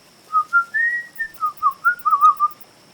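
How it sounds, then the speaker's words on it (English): An eerie whistle drifts through dark woods late at night, a wavering melodic run of about ten rising and falling notes, clear and fairly close, heard alone over a faint steady high hum. "you hear it. A whistle."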